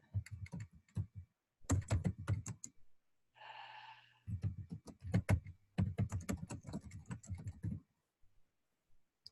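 Close, crisp keystrokes on a computer keyboard come in quick bursts separated by short pauses, with a soft breath or sigh partway through and no talk.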